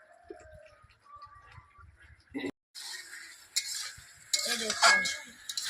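Masala sizzling in oil while being stirred for a Bengali chicken curry, with scraping spoon strokes and pan clatter at close range, quiet at first and then building into louder, dense frying noise.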